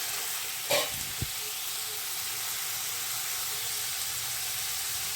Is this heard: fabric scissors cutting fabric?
no